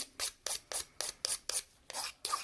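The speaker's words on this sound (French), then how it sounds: "On passe maintenant à notre lime" A hand file rasps across a surface to roughen it, with eight even back-and-forth strokes in a steady rhythm, close and fairly quiet.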